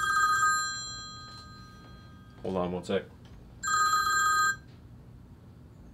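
A telephone bell rings twice in loud, close, sustained bursts, with someone briefly speaking in the pause between the rings.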